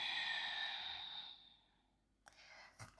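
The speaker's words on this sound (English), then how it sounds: "and then exhale." A single long, soft exhale during a stretching exercise with resistance bands fades out slowly over a couple of seconds, followed by quiet and a couple of faint small rustles.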